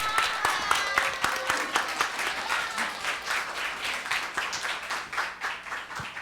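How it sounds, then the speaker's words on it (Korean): A conference opening audience applauds with a dense, sustained clatter of many hands clapping that slowly tapers off. "뜨거운 박수로 맞이해 주시길 바라겠습니다"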